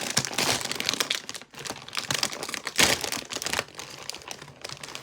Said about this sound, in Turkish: Şimdi açalım cipsimizi.